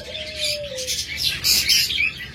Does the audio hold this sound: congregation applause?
no